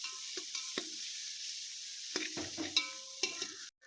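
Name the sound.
onions and ginger garlic paste sautéing in a pan for pulao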